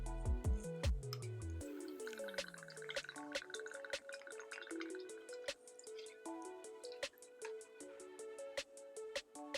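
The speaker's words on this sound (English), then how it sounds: "you want to pour 2 ounces of gin into your Collins glass" Liquid is poured into a Collins glass filled with ice in a home gin and tonic setup, with clinking ice cubes, a rising pouring tone and scattered drips and taps, close and fairly quiet.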